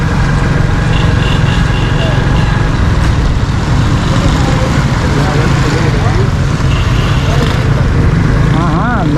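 Motorcycle riding through rain on Karachi streets, with a steady engine rumble, rushing road and rain noise, and passing traffic; the sound is loud and continuous, and people talk over it.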